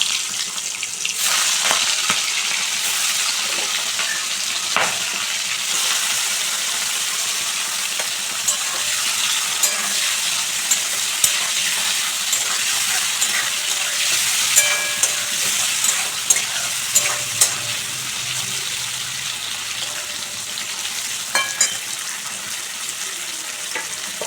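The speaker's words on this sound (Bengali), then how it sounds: "চিংড়ি মাছ ভেজে নেব।" Shrimp fry in hot mustard oil, giving a steady, dense sizzle with scattered crackles and occasional stirring clicks, close and continuous throughout with no talking.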